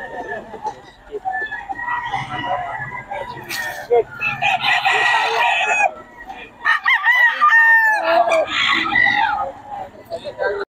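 Gilmore Hatch gamefowl roosters crow repeatedly at close range, several long calls overlapping with clucks and general farmyard noise, while people talk nearby.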